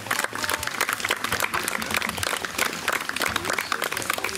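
Audience applause at a Slavic folk music concert in Ciechocinek, Poland, a dense, steady wash of many hands clapping throughout, loud and close, with no voices over it.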